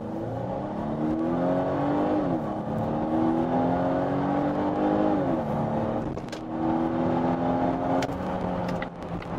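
A Volvo XC90 B6 mild hybrid SUV accelerates hard to 100 km/h in sport mode, its engine note climbing steadily through the gears with brief dips at each shift, loud and continuous with no talking.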